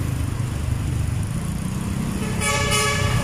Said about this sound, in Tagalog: Bumubusina na po yung bus carousel.